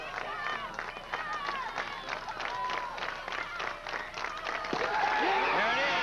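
At the 1988 Illinois Class AA high school baseball championship, a crowd pours onto the field cheering and clapping, the excited roar swelling toward the end while a commentator talks over it.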